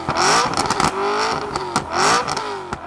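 A car engine cranks, fires up, and revs hard several times, loud and close, with a rough throaty exhaust rattle between revs.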